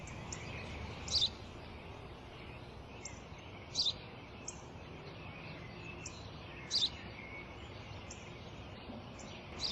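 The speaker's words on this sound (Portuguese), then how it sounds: "Eu já disse, pai. É um pardal." A house sparrow gives short, bright chirps at irregular intervals over a steady hiss of background noise. The calls are moderately distant and there is no talk.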